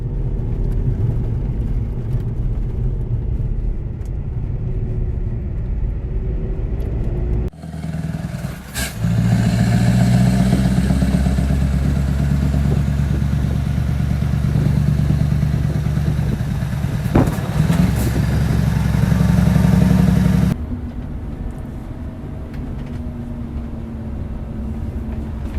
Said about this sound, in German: muss schon ein bisschen Gas geben, wenn man Bernd Maier mit seinem neuen LKW folgen will.